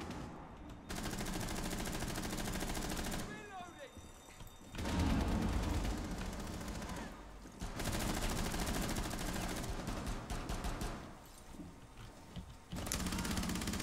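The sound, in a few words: gunfire in the video game Rainbow Six Siege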